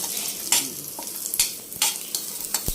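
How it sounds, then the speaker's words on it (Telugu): Tamarind, nalleru stem pieces and garlic cloves fry in oil, a lively sizzle broken by regular scraping stirs of a spoon against the pan, close and loud with no talking. "సో ఇవి ఇలాగా ఫ్రై చేసుకోవాలి ఆయిల్లో చింతపండు నల్లేరు ముక్కలు ఎల్లుల్లిపాయ రొబ్బలు"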